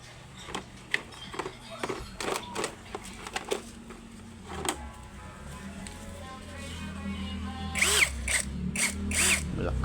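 Short bursts of a Keelat power drill whirring on and off amid clicks and handling noises, then a longer, louder run with a person speaking.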